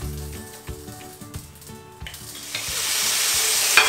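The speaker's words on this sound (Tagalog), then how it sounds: "nilalagay na natin at pitrituin lang natin sandali" Lamb dropped into hot olive oil for a brief fry, first a few clinks and knocks of handling, then a swelling, hissing sizzle that builds and holds loud at the end.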